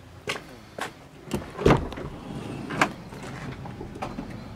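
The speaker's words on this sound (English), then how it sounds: "both doors are electric" An electric sliding side door on a van moves with a series of soft clunks and knocks over a low motor hum, then settles into a quieter rumble, close by and moderate in level.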